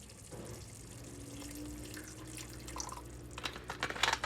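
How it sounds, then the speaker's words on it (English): Apple cider vinegar is poured into a pan of cabbage, a faint liquid trickle over a low background hum that ends in a few splashy drips. "we're going to add in here like 2 tablespoons of apple cider vinegar"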